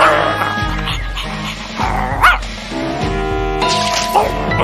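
A dog at a zoo, in an animated cartoon, barks and whimpers in short yips and whines over a busy, music-filled background, fairly close and loud.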